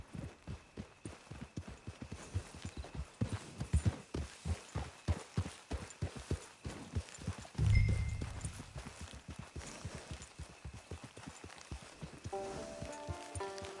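Horse hooves clip-clop in steady rhythm on the ground in the video game Red Dead Online, close and clear for the whole stretch, with a soft thud partway through and faint music near the end.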